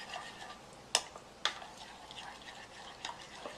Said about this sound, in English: and then you mix it around